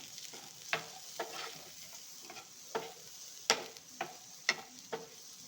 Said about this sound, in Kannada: ಈಗ ಎಲ್ಲ ಮಿಕ್ಸ್ ಮಾಡ್ಕೊಳ್ಳೋಣ